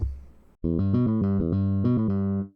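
A round, punchy electric bass, a Precision Bass sound from a software instrument, plays a brief sequence of low sustained notes after a short quiet lead-in.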